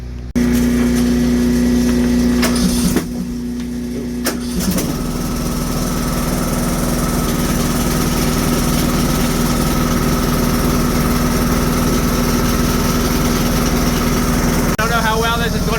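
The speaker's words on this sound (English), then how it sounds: "I won't film doing the chipper, she's still using it, you can hear it." A motorized wood chipper engine drones continuously nearby, a loud steady mechanical hum with occasional clunks, and a voice talks over it.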